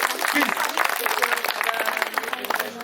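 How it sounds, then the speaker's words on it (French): Audience at a hypnosis show in Lurcy-Lévis applauds the volunteers, a steady wash of clapping from a crowd, fairly loud and sustained throughout. "On peut les applaudir très très fort s'il vous plaît."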